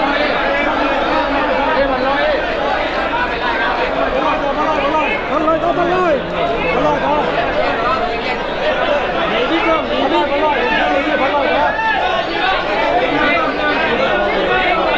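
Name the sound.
excited crowd at a southern Thai bullfight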